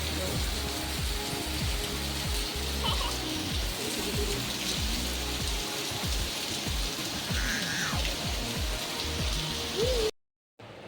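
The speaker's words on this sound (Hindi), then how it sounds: "ये देखो कितनी तेज बारिश हो रही है" Heavy rain pours steadily, a dense hiss of drops drumming on surfaces, continuous and close, before cutting off abruptly near the end.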